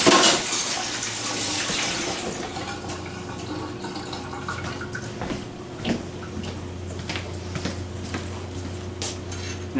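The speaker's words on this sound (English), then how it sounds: "I need to wash my hands, get that bacon day off of it." Tap water runs into a kitchen sink while hands are washed under it, a steady close splashing stream with small clinks of dishes, following bacon prep for a catfish stew.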